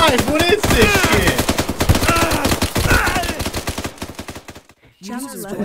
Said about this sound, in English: I opened fire on you guys right at the end